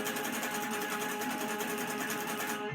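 Palm-muted electric guitar picked rapidly in a fast, even tremolo, with only the 5th and 3rd strings ringing through as a steady buzzing drone.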